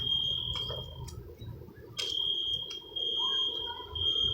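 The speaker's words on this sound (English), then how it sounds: "Yeah, I guess they're testing the alarms." An EST Genesis fire alarm is tested in a vacant building, giving a steady high-pitched electronic tone with brief breaks and pulses, heard from a distance over low background rumble.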